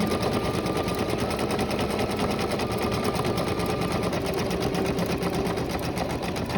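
An embroidery sewing machine stitches out a unicorn design, its needle hammering in a fast, steady rhythm with a constant mechanical whir, loud and close throughout.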